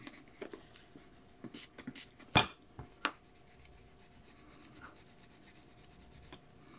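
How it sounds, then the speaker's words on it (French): A cloth rubs across glass in a few short, quick strokes, close and soft, with one or two sharper squeaks, then a long quiet stretch. "Je vais nettoyer le verre."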